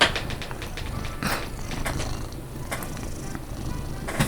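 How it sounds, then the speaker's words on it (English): Close-up purring of a pet cat, a low steady rumble running through the whole moment, joined by a few soft taps and bumps, with birds chirping faintly outdoors in the background. "Do you want to hear the cat?"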